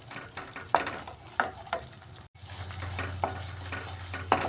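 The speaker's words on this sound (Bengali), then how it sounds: "এইভাবে মশলাটাকে কষিয়ে নিচ্ছি আমি" Spice paste for aloo dum sizzles in a pan while being stirred, with repeated scraping strokes of the spoon over a steady frying hiss, close and moderately loud.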